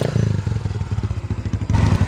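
An old high-mileage Yamaha Byson motorcycle, freshly rebuilt after an engine teardown, idles close by with a throbbing, loping exhaust beat that pulses rhythmically and rises slightly near the end.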